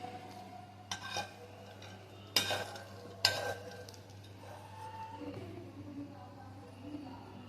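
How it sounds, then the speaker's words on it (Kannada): Peanuts and garlic pounded by hand in a mortar for peanut chutney: three or four sharp, close knocks spaced about a second apart over a low steady kitchen hum, with softer scraping between them. "ಇದನ್ನು ಮಿಕ್ಸಿಲಿ ರುಬ್ತಾ ಇಲ್ಲ, ಕುಟ್ಟಾಣಿಗೆ ಹಾಕ್ತಾ ಇದ್ದೀನಿ."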